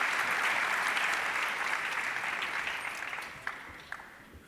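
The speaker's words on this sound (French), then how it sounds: "Veuillez vous applaudir très très fort s'il vous plaît." Audience at an African emergence conference applauding, a dense steady wash of clapping that starts loud and gradually fades, with a few last isolated claps near the end.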